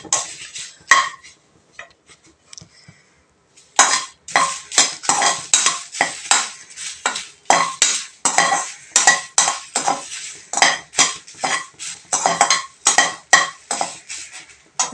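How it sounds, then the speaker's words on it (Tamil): Curry leaves dry roasting in a pan are stirred with a metal spoon, producing loud rapid rhythmic scraping and clinking strokes after a quiet opening with a few isolated taps, no talking. "வாசனை வர அளவுக்கு நல்லா வறுக்கணும்"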